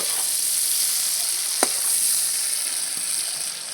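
Prawns sizzle in hot frying oil with a steady, bright hiss close by. A single sharp utensil tap sounds partway through, and no one speaks.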